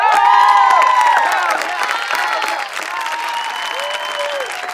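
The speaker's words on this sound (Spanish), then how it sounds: "vamos a brindarle un fuerte aplauso a la hermosa Claudia." Audience at a televised singing competition finale applauds and cheers for a finalist: dense, loud clapping with whoops and shouting voices that stays steady and slightly eases over a few seconds.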